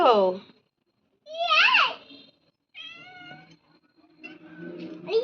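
A cat meows several times in drawn-out, wavering cries separated by short pauses, close and fairly loud, mixed with a person's voice.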